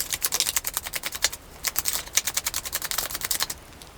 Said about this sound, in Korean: 카드를 조금 더 뽑아볼게요